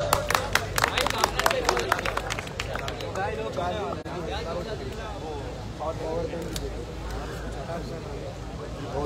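Audience at a poetry mushaira clapping, dense applause that is strongest at the start and thins into a crowd murmur, with voices and scattered claps continuing underneath.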